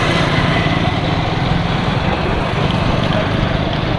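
A motorcycle engine runs steadily and loudly while riding on a tour through Bahawalpur, a continuous close drone with wind rush and no pauses.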